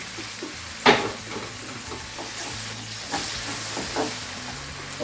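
Masala fries in about a quarter cup of oil in a pan for a malai chicken dish, a soft continuous sizzle broken by a sharp utensil knock and several scraping stirs, close by.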